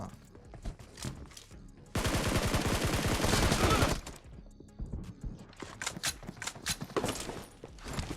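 Gunfire in an online shooter video game, a continuous two-second burst of rapid automatic fire, loud and steady, amid scattered clicks and shots before and after.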